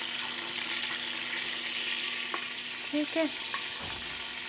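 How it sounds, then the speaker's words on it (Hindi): Red onion fries in a pan with a steady, moderate sizzle and stirring, while a voice briefly speaks a couple of words midway. "मैं ज़रा सा ऑनियन को फ्राई करती हूँ, फिर ये ऐड करती हूँ"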